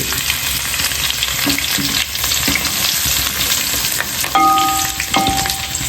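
Garlic browning with a little ginger in a frying pan, a steady broadband sizzle with stirring scrapes and a few brief clinks, close and moderately loud, no voices.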